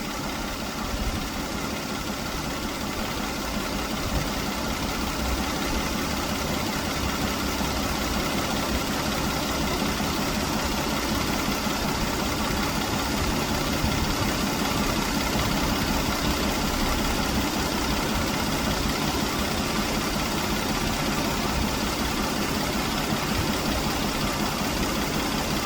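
A 2015 Kia Sedona engine runs with the air conditioning on, a steady close idle with a broad, even hum and vibration that holds unchanged throughout.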